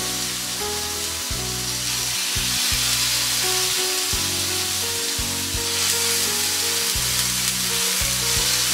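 Chicken shashlik skewers sizzling in oil on a tawa over a medium flame, a loud, steady close frying hiss that continues throughout without pause.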